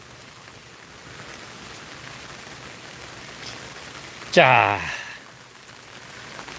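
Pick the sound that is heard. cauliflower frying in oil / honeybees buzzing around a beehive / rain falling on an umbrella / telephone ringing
rain falling on an umbrella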